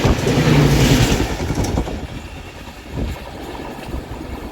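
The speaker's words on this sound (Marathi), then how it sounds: "जनशताब्दी एक्सप्रेस आता क्रॉस झाली." A Jan Shatabdi Express train rumbles past at close range, loud at first with heavy low roar and wheel clatter, then easing to a steadier, quieter rolling noise as it moves on.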